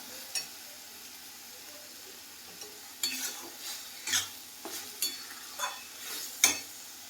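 Masala roasting in oil for chole, with a soft background sizzle broken by repeated spoon scrapes and stirs against the pan, close and clear, with light metallic clinks and no talking.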